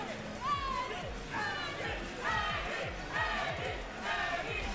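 Crowd at a Tekken Tag fighting-game tournament at Combo Breaker 2025 cheering in repeated swells of shouts and hubbub, moderately distant, rising and falling in waves, with voices mixed in.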